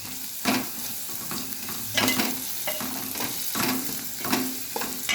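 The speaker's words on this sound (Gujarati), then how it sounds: "હવે આ બધા મસાલા આપણે હલાવી દઈશું" A spoon or spatula scrapes and stirs spices with garam masala and salt in a hot pan, producing rhythmic stirring strokes over a steady low sizzle, close and clear with no talking.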